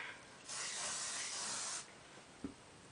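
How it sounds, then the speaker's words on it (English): Hairspray sprayed onto hair during styling: one steady, close hiss lasting over a second, followed by a small clack, with no talk. "Hairspray."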